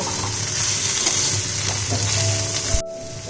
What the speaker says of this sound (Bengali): 1 কাপের মতন জল এর মধ্যে অ্যাড করে দিলাম